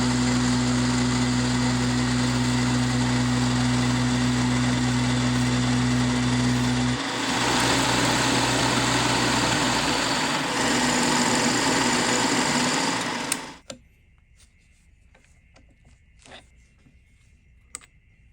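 A metal lathe takes a facing cut on a part, a steady droning machine whine with strong tonal hum that shifts midway, then stops abruptly, leaving quiet workshop clicks.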